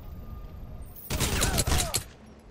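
A brief burst of rapid gunfire in the video game Crysis Remastered breaks out after a quiet moment, loud and close, crackling in a dense volley for about a second before cutting off.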